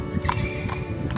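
A wild palomino horse steps out onto a road, its hooves giving a quick run of close clip-clop strikes with a faint whinny mixed in.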